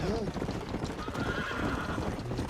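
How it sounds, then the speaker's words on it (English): A horse in Red Dead Redemption whinnies over rapid clip-clopping hooves, close and busy, while a voice talks over the sounds. "Casi me tumba el caballo."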